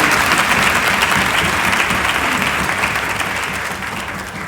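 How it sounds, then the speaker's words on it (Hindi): Loud, dense applause from a large audience at a Women's Day event in New Delhi, continuous clapping that holds steady and then eases slightly toward the end. "जरा जोरदार तालियां उस जनरेशन के लिए।"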